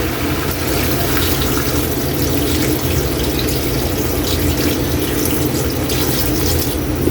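Water runs steadily from a tap into a cooking pot for Filipino pork nilaga, a constant broadband gush that lasts throughout without any talking.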